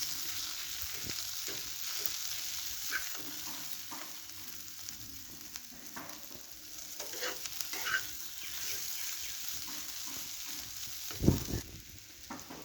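Rice fries with spices in a pan for a fish-head rice dish, a soft steady sizzle broken by light stirring scrapes and a single sharper knock near the end.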